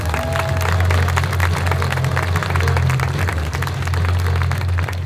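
A protest crowd at the Freedom Monument in Riga applauds steadily, a dense continuous wash of clapping and cheering over a constant low hum, with no clear pauses.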